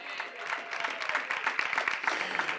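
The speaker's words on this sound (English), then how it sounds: "Give Him a hand clap of praise" A church congregation claps its hands in praise, a brisk, dense run of overlapping claps that carries on steadily from start to finish.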